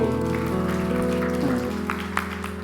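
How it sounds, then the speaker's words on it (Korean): A congregation applauds during a Sunday church service. Dense, steady clapping rolls on under sustained music for the whole stretch. "박수"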